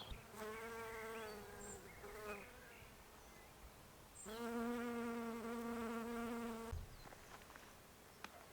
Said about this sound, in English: I've got quite a lot of bees on here, honey bees.